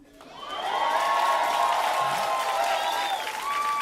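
A comedy club audience breaks into applause, rising quickly to a dense, sustained wall of clapping with scattered cheers and whoops, loud and continuous to the end.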